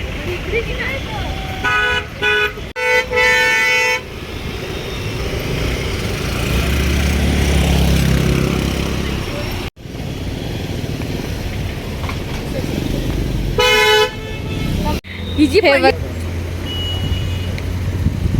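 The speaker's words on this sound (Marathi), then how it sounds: "ट्रॅफिक किती झाली आहे." Cars stuck in heavy traffic near Mahabaleshwar, with several loud, close horn blasts in short repeated toots over a continuous engine rumble, and people talking throughout.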